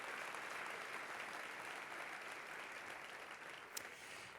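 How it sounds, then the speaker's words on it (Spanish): A church congregation applauds for the king, steady dense clapping that holds loud and even throughout, with no voices over it. "Dale un aplauso al rey"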